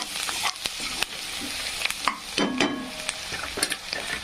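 Garlic and red chili powder fry in a pan for usal while being stirred, with busy scraping and tapping over a constant sizzle, close and fairly loud, no voices.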